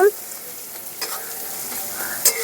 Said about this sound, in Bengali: আমি পেঁয়াজটা ভাজতে ভাজতে আপনাদের সঙ্গে একটু গল্প করে নিই